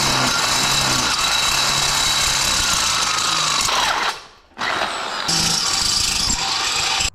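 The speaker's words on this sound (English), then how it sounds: "I just drilled 20 holes, and I used my step bit to go up to 9/16 on these." A power drill with a step bit bores holes through a steel exhaust pipe on a 1968 Ford F-100, a loud, steady high-pitched grinding whir that cuts out briefly near the end, then resumes at full strength.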